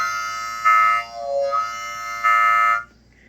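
Harmonica chord blown on holes 3, 4 and 5, mimicking a train whistle: sustained reedy harmonic blasts with a rising-falling wail and hand-wah swells, fairly close and loud, with no talking.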